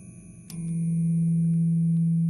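An additive synthesizer's ringing metal preset on Addstation rings out after a soft metallic strike, a sustained resonant metal-like tone holding steady and growing slightly louder.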